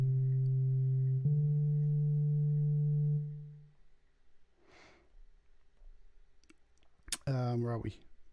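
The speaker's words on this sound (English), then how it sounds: "this solo track number 3 is pretty much this sine wave." A steady synthesizer sine-wave solo track from the FRMS iOS app holds a pure low tone with a few faint overtones, stepping once in pitch before fading out, followed by brief breathy noises and a short burst of harmonic sound.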